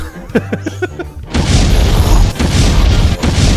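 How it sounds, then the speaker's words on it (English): A stack of explosion sound effects, with a few sharp pops followed by a loud, sustained roar of overlapping blasts and rumbling booms. "So many explosions, too many."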